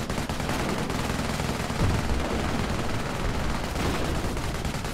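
Vickers machine guns in Company of Heroes rattle in dense, continuous bursts, loud and close over a thick wash of battlefield gunfire.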